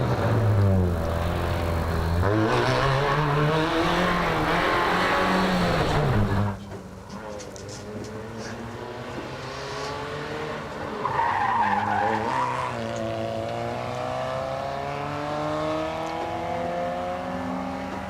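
A Hyundai race car climbs a hillclimb course, its engine revving up and down through the bends with tyre skids, loud at first and then fading further away.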